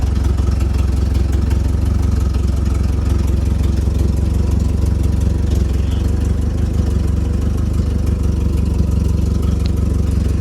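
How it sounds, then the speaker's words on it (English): Forklift engine running steadily at a constant, loud drone for the whole stretch, lifting a person up toward a 43-foot camper's roof, with no voices over it. "Going up in the air if the forklift starts."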